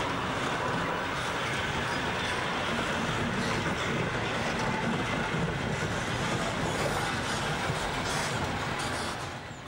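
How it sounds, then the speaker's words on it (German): A Wehrmacht V36 diesel locomotive running on a museum railway, heard as a steady, dense rumbling roar of the engine and rolling train that holds an even loudness throughout and fades slightly at the very end. "tuckern heute die letzten betriebsfähigen Vertreterinnen dieser Bauart auf Museumsbahnen vor alten Zügen"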